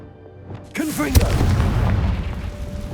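A fiery Confringo spell blast in Hogwarts Legacy, a sudden booming explosion with a rumbling tail inside an old manor, preceded by a brief shouted incantation.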